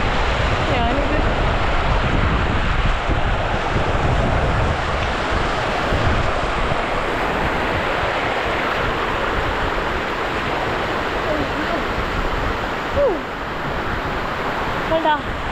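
A waterfall roars in a steady broadband rush while wind buffets the microphone, constant and loud for the whole stretch, with a voice talking faintly over it.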